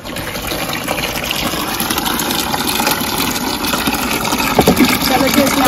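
Water gushes steadily and fairly loudly while mangoes for pickle are washed outdoors in the sun, a continuous splashing rush throughout.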